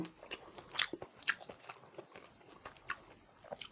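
Close crunchy bites and chewing of grilled pork neck, with irregular crisp snaps over quiet background and no talking.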